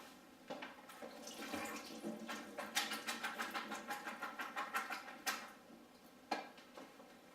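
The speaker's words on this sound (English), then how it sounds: "So if you drain it, okay, I'll go over and drain." Liquid drained from an opened food can into a sink: a faint, splashing trickle with a run of soft, rhythmic gurgling pulses, then a few scattered drips and knocks.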